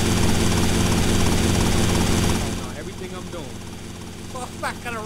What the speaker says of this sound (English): Got a red helicopter.